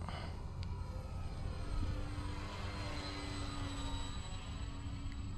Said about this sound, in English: Good thing this is a pretty powerful plane.